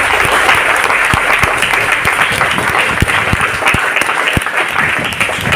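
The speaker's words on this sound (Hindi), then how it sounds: "एक बार अपने मैम सर के लिए तालियां बजानी है।" Students at a Chhatarpur school seminar give their teachers a loud, continuous ovation, many hands clapping together in a dense steady wash with a few crisp individual claps standing out.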